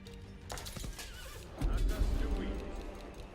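Horses in the strategy game Age of Empires 4 whinny and neigh amid clip-clopping hooves, a busy mix of several animals with a heavier rumble of battle noise swelling in the second half.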